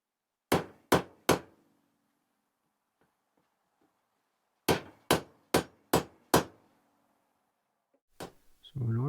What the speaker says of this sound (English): Use a steel hammer to straighten out the smaller bends.